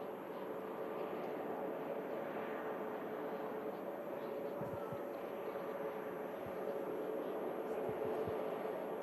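An Airbus A380 airliner arriving to land at Manchester Airport gives a steady, distant jet roar that holds evenly throughout, with faint low rumbles underneath.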